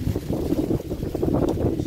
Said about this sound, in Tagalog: Ang lakas po kasi ng hangin.